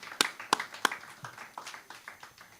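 Scattered, fairly quiet hand claps from a congregation at a morning service, a few sharp claps followed by a light, uneven patter of applause.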